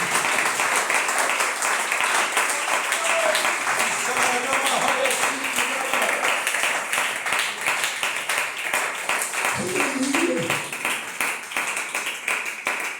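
Church congregation applause during a Sunday morning service, a long sustained burst of loud rhythmic clapping filling the room, with voices shouting briefly over it partway through.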